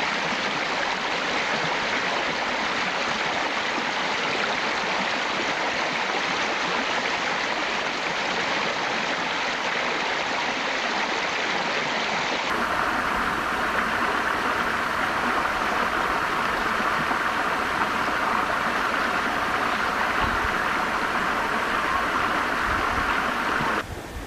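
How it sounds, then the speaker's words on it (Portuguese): Water flows steadily from natural springs in a wild, uninhabited area. The rushing hiss is constant and fairly loud throughout, with the tone shifting partway through and no voices over it. "Então você imagina que água sai daqui."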